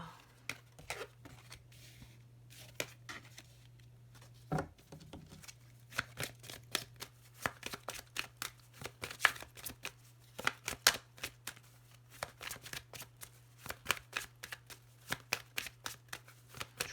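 Oracle cards being shuffled by hand, a dense run of crisp riffling flicks and soft slaps that continues steadily at close range over a low steady hum, with no talking.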